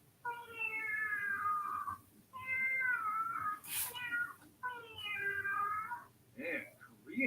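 A cat in an animated movie meows three times in drawn-out, tonal cries, each about a second or more, followed by shorter broken yowls, heard fairly close and clear.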